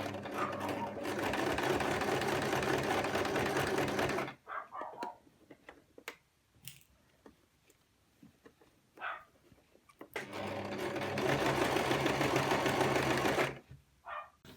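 A sewing machine runs steadily while top stitching the hem of an A-line skirt, two long bursts of continuous whirring separated by a pause filled with small clicks and handling noises.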